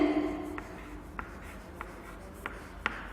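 Chalk or marker strokes on a board during a primary-school English grammar lesson on pronouns, a few short scratchy taps and strokes spaced about half a second apart, close and fairly quiet after a brief voice at the start.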